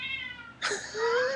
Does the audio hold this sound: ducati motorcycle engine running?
no